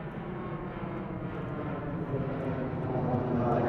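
A low, steady engine roar of an airplane overhead, growing slightly louder toward the end, with a voice talking underneath.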